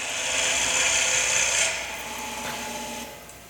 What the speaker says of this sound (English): Now you can see me scraping